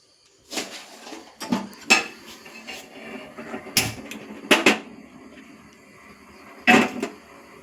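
Several sharp metallic clanks and knocks of a cooking pot being handled and set down on a kitchen stove, with short pauses between the clatters.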